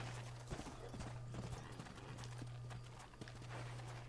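Horse hooves clip-clop in a steady trotting rhythm close by in Red Dead Redemption, with a faint neigh mixed in over a quiet low hum.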